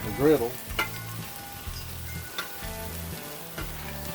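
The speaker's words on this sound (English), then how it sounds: "Give that a stir. Get it worked in all these nice caramelized onions, peppers." Caramelized onions and peppers sizzle steadily on a griddle set over a kettle grill, with a few scraping stirs and faint clanks of the spatula at close range.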